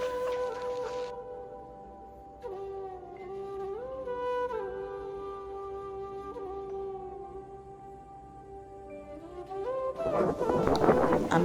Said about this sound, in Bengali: মুরগিকে বিকেলবেলা খাবার দিচ্ছি কিছু, মুরগি এখন ঘরে চলে যাবে।